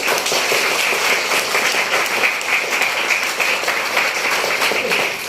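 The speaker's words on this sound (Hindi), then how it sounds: "एक जोरदार तालियां होनी चाहिए" Loud, dense audience applause at an Indian network marketing seminar, sustained and steady for about five seconds, close and full with no talking over it.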